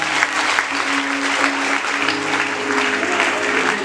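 A church congregation applauding during a Holy Spirit week service: steady, dense clapping from a crowd that fills the whole stretch at close, even loudness.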